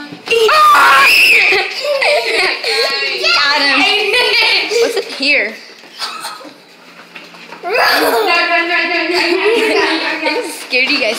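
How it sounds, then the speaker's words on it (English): A six-year-old boy screams in fright, loud piercing shrieks that come in two bursts with a short quieter gap between, mixed with excited voices and laughter nearby. "he was the one who screamed."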